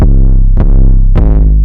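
Sustained 808 bass in FL Studio for a trap beat, three loud distorted harmonic notes each ringing on to the next hit with no gaps, alone without any voice.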